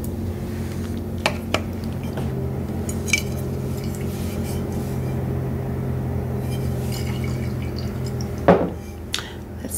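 Turmeric powder being mixed with apple cider vinegar and lemon into a metallic face mask, giving sparse small clinks and scrapes over a steady low hum, ending with a louder knock near the close.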